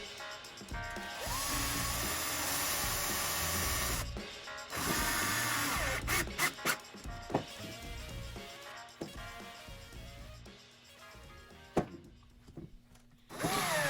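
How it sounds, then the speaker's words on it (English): A power drill drives two long screws, about two inches, into an acrylic shelf stopper, with several whirring bursts of the motor, close and fairly loud, separated by pauses and small clicks and knocks. "I'm just going to screw a couple screws in here"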